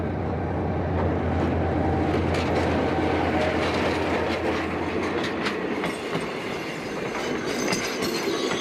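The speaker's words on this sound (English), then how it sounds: "this train shows no sign of stopping or even slowing" A train rolls steadily along the tracks without slowing, its continuous rumble and rail noise loud and close throughout, with faint clickety-clack and occasional metallic squeal from the wheels.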